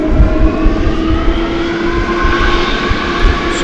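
A jet taxiing at night across runway 18 right toward runway 18 left for takeoff at DFW Airport, with a steady engine drone and a sustained whine holding at constant loudness throughout.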